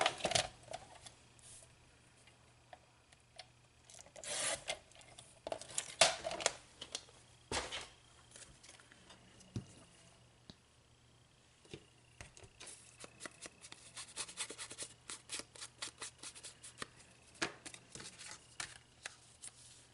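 Card stock being trimmed for a handmade shaker card, with quiet, scattered snips, slides and taps of paper and tools coming and going close up, clustered more densely toward the end, with no talking.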